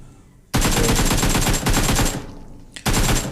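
Gunfire in the battle royale game PUBG with a Kar98 rifle: loud, dense rapid volleys of shots in two long bursts separated by a short gap, close and dominant.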